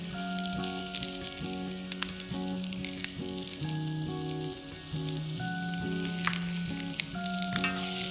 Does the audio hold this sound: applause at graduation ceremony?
no